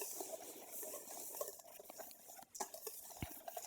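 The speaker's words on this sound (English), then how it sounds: "And we're just going to whisk that all together" A whisk stirs flour, hemp hearts, baking soda, baking powder and salt together in a bowl, with quiet irregular scraping and light clinks against the side, soft and close, no voices.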